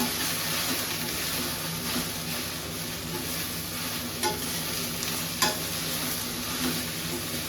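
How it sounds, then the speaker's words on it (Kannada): Okra (ladyfinger) frying in oil in a pan for a Kannada-style palya, with a steady dense sizzle and occasional scraping stirs of a spoon, close and continuous with no talk. "ಬೆಂಡೆಕಾಯಿನ ಎಷ್ಟು ಚೆನ್ನಾಗಿ ಫ್ರೈ ಮಾಡ್ತೀವೋ ಅಷ್ಟು ರುಚಿ ಇರುತ್ತೆ."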